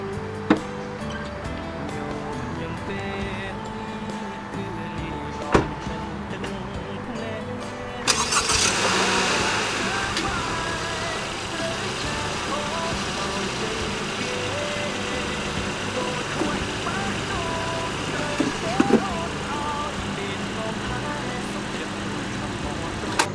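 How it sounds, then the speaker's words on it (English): A 2018 Honda HR-V engine cranks and catches partway through, then runs steadily as the car drives down a ramp, with a few soft clunks and knocks over the continuous engine hum. "we're gonna drive down the ramp to check the level of the car"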